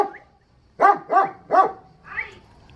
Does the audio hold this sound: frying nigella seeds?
no